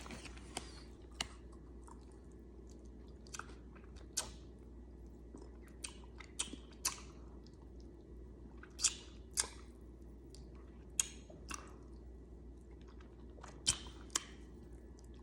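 Close, quiet crunchy chewing of hot Cheetos street corn, with sporadic sharp bites and crunches scattered over a soft low background hum, no talking.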